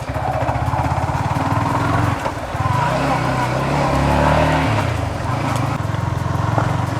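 A Yamaha XSR 155 motorcycle engine hums steadily while riding at speed, with a brief dip as the brakes are applied. A rider's voice talks over it.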